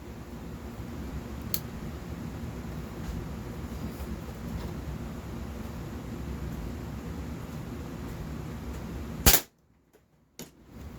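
A muzzleloader firing a Tactical Jewel projectile outdoors: one sharp loud shot near the end, after a long steady background hiss, followed by a brief silence and a faint trailing sound.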